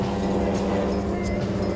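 An Infiniti G35 sedan in limp mode, stuck in fourth gear, holds a steady, close engine drone with a low, rough hum and no clear changes in pitch.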